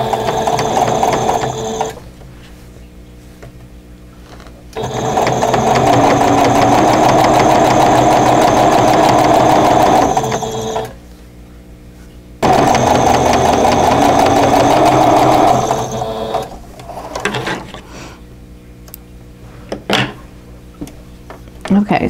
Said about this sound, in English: I'm going to stitch it down where the two folded edges meet to make a bias tape tie.